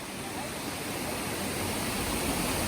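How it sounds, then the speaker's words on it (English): Nugadeka waterfall in the Sinharaja rainforest pours with a continuous, dense roar of falling water, close and steady throughout with no other sounds standing out. "We reached to the second waterfall along the trail. It is called Nugadeka waterfall."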